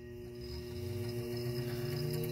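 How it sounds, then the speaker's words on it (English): A Cole-Parmer 7144-00 pump motor drive runs a micropump, giving a steady, low electric hum with a constant tone throughout, fairly quiet and close, with no voices. "So I take it this is the pump and this is the pump drive. We'll turn it on."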